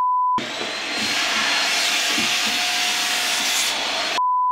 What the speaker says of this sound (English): do you have a little hand vacuum or anything?